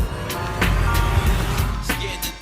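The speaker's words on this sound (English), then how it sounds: "The car's on." A car engine idling close by in a low, steady rumble, with a few knocks and faint voices over it.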